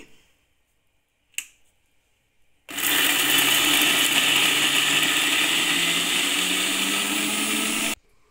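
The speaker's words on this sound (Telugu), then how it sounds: "ఇప్పుడు మిక్సీ పట్టుకుందామండి" A kitchen mixer grinder blends a chutney of coconut, raw mango and green chillies, running loud and close for about five seconds as one continuous whirring burst after a single click, then cutting off sharply.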